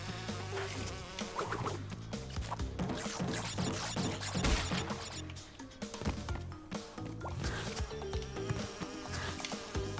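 Buzzing bees in the video game Crash Bandicoot 2, in a level called Digging It, a steady insect drone running under busy game music and effects for the whole stretch.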